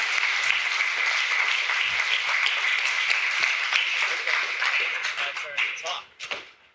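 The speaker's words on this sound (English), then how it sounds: "Round of applause." Audience applause at a Clojure programming conference talk, loud, dense clapping that holds steady, then thins into scattered individual claps and fades near the end, with some voices mixed in.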